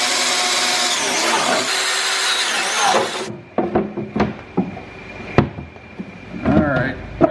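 A power drill runs steadily for about three seconds while boring holes in a truck cubby unit inside a Tacoma, then stops, followed by scattered clunks and knocks of handling parts.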